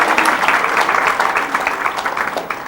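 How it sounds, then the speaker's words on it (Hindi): Dense, steady crowd clapping fills the whole stretch, a bright crackling patter with no pauses and no clear voices above it. "ताली हो जाए"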